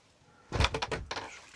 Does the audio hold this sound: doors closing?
yes